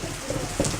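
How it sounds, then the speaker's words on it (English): Steady rain falls outside a house in a dense, even hiss that stays close and constant, with one soft thud partway through and no voices. "Look at the rain."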